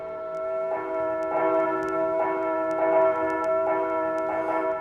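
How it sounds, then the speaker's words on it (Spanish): City church bells ring the Angelus, a series of resonant, evenly spaced strikes with long sustained tones overlapping one another, moderately loud and somewhat distant, heard without voices. "mientras que las campanas de la ciudad repicaban, llamando al Ángelus"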